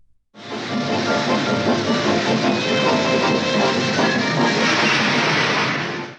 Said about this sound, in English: Not just any whistle, but the voice of a 19th century locomotive.